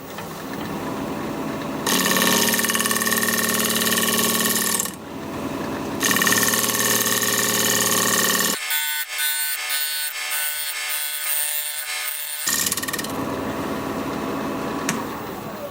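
A wood lathe spins a piece of yew while a tool rounds its edge. A loud, humming mechanical drone comes in repeated bursts, with rough scraping cuts and brief pauses between passes.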